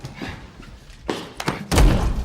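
A man's head is slammed onto a table in a tense film interrogation scene from The Dark Knight, a dull heavy thump landing near the end amid a couple of sharper knocks.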